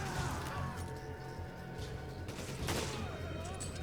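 Gunfire rings out in Resident Evil 5, with a rapid volley of shots and crashing impacts layered over game noise, plus a sharp burst near the end.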